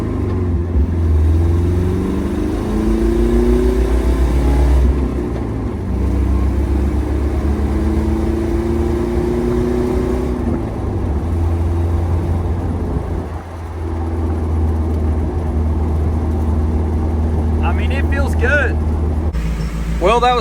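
A Jeep Wrangler's engine drones loudly on the road as it accelerates hard, with steady engine roar and rising pitch sweeps sustained throughout, under occasional speech.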